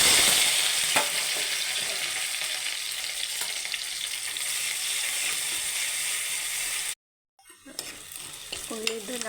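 Crushed onion, ginger, garlic, green chilli and curry leaves frying in hot oil, a loud dense sizzle with occasional stirring clicks that cuts to silence briefly before quieter sizzling and scraping return.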